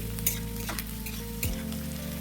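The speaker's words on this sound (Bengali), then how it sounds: "রসুনটা প্রথমে তেলের মধ্যে দিয়ে দিতে হবে।" Chopped garlic sizzling and frying in white cooking oil in a kadai, a steady close crackle throughout with a brief stir or clink near the middle.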